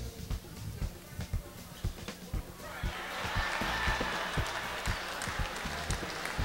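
An audience at a 1994 calypso monarch awards show breaks into applause, building from scattered near claps over a low band into a sustained wash of clapping through the second half.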